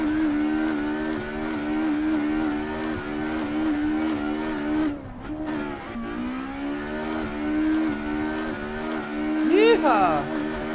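An Escort Mk1 in the Assetto Corsa racing game holding a steady high engine drone through a handbrake donut, revs dipping briefly midway then surging again near the end, with a voice talking over it.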